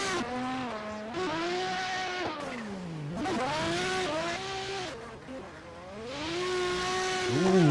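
Nissan S15 drift car in a virtual drifting sim race, its engine wailing up and down through the revs with changing pitch and tire squeal as it slides, loud and continuous throughout.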